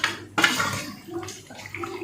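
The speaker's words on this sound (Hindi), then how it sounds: "1 कप पानी इसमें से मैं आधा डालूंगी क्योंकि ये सब चीज़ें भी अपना पानी छोड़ेंगी" About half a cup of water is poured into a mutton karahi with masala, giving a sudden splashing gush that trails off into gentle sloshing and light clinks of the pot.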